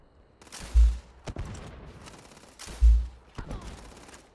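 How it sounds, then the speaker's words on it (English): Grenade launcher fire in the video game Starfield: two heavy thumping blasts about two seconds apart, each followed by a rattle of smaller shots, with a faint voice in the background. "That's a sneak attack with a grenade launcher?"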